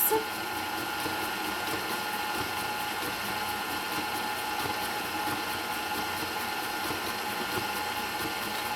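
An electric mixer creams butter and sugar for an orange sponge cake, giving a steady, continuous motor whir with a bright high-pitched whine that holds evenly throughout.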